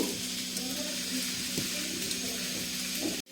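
Onions frying in a pan for a paneer Afghani gravy, giving a steady close sizzle with light stirring, cut off abruptly at the end.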